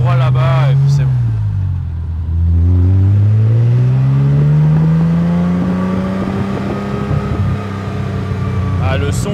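Mazda MX-5 accelerating past on a straight, its engine note rising steadily in pitch as it sweeps by, loud and close, with a brief voice at the start.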